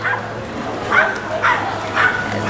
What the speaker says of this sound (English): oh my gosh, dogs, so loud